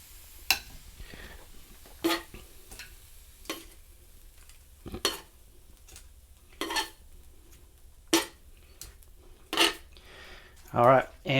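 Reheated chicken wings are plated off a Granitestone Piezano pizza cooker, with sharp, scattered clinks and scrapes of dishes and utensils at irregular intervals over quiet background.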